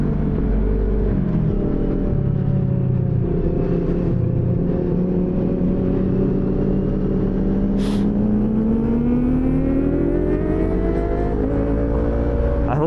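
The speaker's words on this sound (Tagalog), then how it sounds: "I hope you can hear that ZX25R screaming" A Kawasaki ZX25R motorcycle engine screams at high revs, a loud, close, sustained whine whose pitch climbs steadily as it accelerates, with no speech over it.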